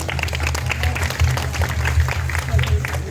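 An audience at a temple cultural program with kathak dance performances claps in a round of applause, the clapping mixed with a low humming drone and some voices.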